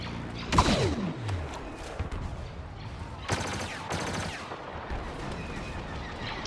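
Rapid bursts of heavy pulse cannon fire in Star Wars Battlefront, punchy blasts with sweeping electronic tails, then a steady noisy rumble.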